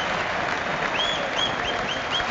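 Stadium crowd at a Morocco vs Algeria football match applauding player Saidi, a dense, loud, sustained wash of clapping and cheering, with whistles rising above it.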